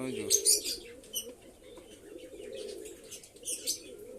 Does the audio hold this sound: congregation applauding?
no